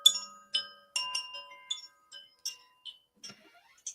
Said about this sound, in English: I have these chimes.